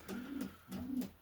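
A stock pigeon in a breeding loft coos twice in low, rolling phrases, close and fairly quiet, with no one speaking.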